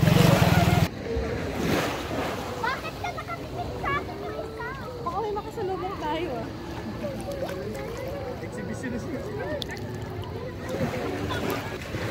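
Ocean surf washes and rumbles steadily on a beach at Nasugbu, Batangas during a sea turtle release, with voices talking and calling over the waves throughout.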